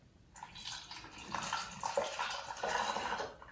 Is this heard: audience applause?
no